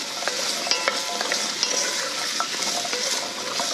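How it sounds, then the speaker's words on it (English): Vegetables for Irish lamb stew hiss and crackle as they sauté in a hot pot, with small scraping and clicking taps of a utensil stirring throughout, steady and close. "we're gonna saute this for a few minutes"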